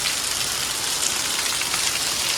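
Heavy morning rain pouring down steadily, a dense continuous hiss of drops on surfaces, loud and even throughout with no voices.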